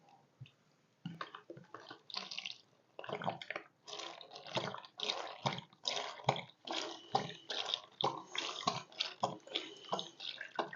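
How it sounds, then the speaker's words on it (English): Water is poured into a freeze-dried food pouch in bursts, an irregular splashing and gurgling trickle that stops and starts several times, close and fairly quiet, with no talking over it. "let's pour some water in"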